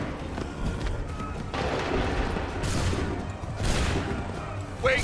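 A musket volley in the Assassin's Creed 3 video game, several rough bursts of gunfire at mid distance, spread over a few seconds under a busy battlefield din.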